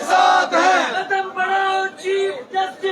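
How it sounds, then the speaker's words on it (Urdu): Crowd chanting political slogans in support of Pakistan's Chief Justice outside the Lahore High Court, a loud, rhythmic mass of voices rising and falling in short bursts. "chief justice of Pakistan justice Umar Ata Bandial کے حق میں نعرے بازی اور ان سے اظہار یکجہتی کے لیے نعرے بازی کی جا رہی ہے"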